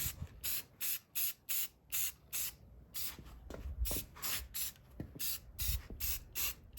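Spray can or spray gun laying a final coat of paint on a 2010 BMW 328i part, a steady series of short even hissing bursts in regular rhythm, close by, followed by a few softer, longer sprays.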